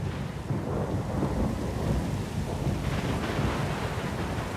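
Thunderstorm in Pillars of Eternity 2: Deadfire around a small sloop at sea: a steady roar of heavy rain and wind with low, rolling thunder rumbling throughout, loud and continuous with no voices.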